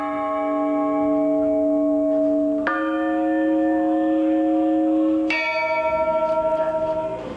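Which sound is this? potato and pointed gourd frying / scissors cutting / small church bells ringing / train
small church bells ringing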